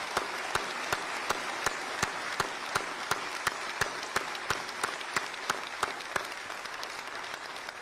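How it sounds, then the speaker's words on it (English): Audience applause rings out at an Indian government address on artificial intelligence, a steady round with sharp, regular clap bursts standing out above the dense crowd clapping throughout. "give all of them a big round of applause"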